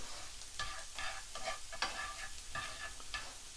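Mushrooms and garlic sizzle in a frying pan while being stirred, producing a steady crackling fry broken by several scraping, clattering stir strokes, close and fairly quiet, with no talking.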